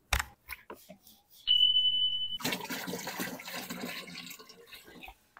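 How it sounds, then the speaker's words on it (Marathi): Water splashes and gurgles steadily into a half-full battery-powered pesticide sprayer tank for several seconds after a brief high beep and some handling knocks. "आम्ही ह्याच्यामध्ये थोडं पाणी टाकून घेतो।"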